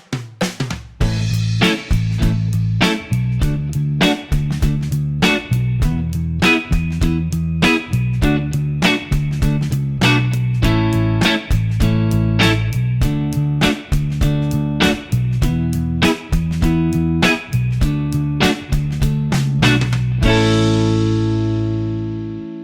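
Motown-style rhythm guitar chords over a backing track, with steady rhythmic strummed chord stabs, some long and some short and accented, playing close and loud for over twenty seconds before a final ringing chord.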